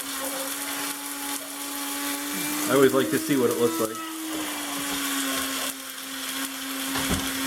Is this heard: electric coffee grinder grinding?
yes